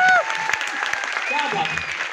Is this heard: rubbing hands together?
no